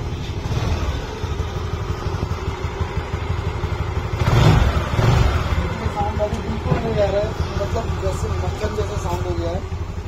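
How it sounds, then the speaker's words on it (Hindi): A TVS Wego scooter with a self-start pinion problem runs after being self-started, its small engine putting out a steady close running drone with a brief louder rise midway, while someone talks over it. "इसके बाद हम गाड़ी को स्टार्ट करके फिर से आपको साउंड सुनाते हैं।"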